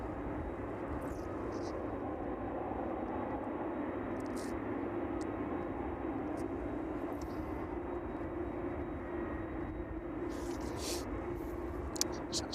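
A Boeing 767 airliner taxis to its stand at East Midlands Airport, giving a steady, low, continuous engine drone at a distance, with a voice talking over it.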